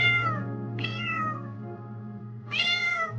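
A cat meows twice, clear and close, the cries rising then falling over a low steady hum.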